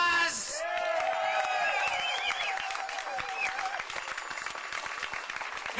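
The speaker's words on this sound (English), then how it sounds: "Give yourselves a round of applause." A rally crowd applauds, clapping steadily and at moderate volume after an opening shout and cheers, with scattered voices and whoops mixed in.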